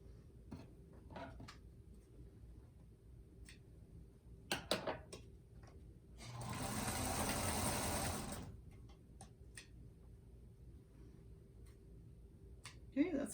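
A sewing machine stitches slowly over the bulky seams of a fabric table runner in one sustained two-second run. Quieter handling ticks and brief voice sounds come before and after it.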